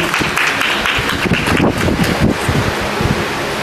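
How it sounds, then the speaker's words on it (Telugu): Ceremony audience clapping at a swearing-in event in Devarakonda, a dense continuous patter of many hands at close range for a few seconds with no speech. "అందరూ లేచి ఒక్కసారి గట్టిగా చప్పట్లతో వేదిక మీదకి తీసుకురావాల్సిందిగా పెద్దలను కోరుతున్నాం"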